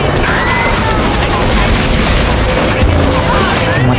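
Dense, continuous rapid gunfire in GTA 3 set in Liberty City, loud and chaotic with booming impacts throughout, filling the whole stretch without pause.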